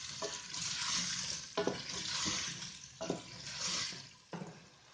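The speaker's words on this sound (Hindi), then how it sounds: "आलू को इसमें 2 मिनट तक कुक कर लेना है।" Potatoes fry in a pan for aloo matar curry, giving a soft, steady sizzle with a few brief stirring scrapes, close but quiet, with no talk.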